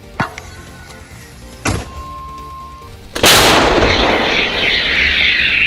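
Two sharp distant thumps, then a loud, close artillery blast whose roar rumbles and lingers for several seconds.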